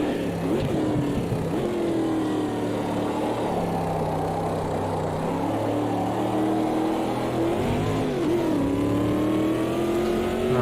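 Loud, continuous engine note of a non-turbo, air-cooled Corvette race car in the racing game Automobilista 2, revving up and down through gear changes with no talk over it.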